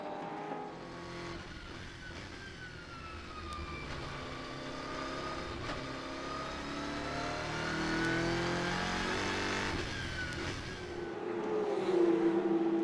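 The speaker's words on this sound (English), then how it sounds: "Philipp Eng is driving a BMW M6 GT3 for Rover Racing" A BMW M6 GT3 race car at the Nürburgring 24-hour race, its engine note rising and falling through gear changes as it passes, loud and close, with other race cars roaring by, no talk.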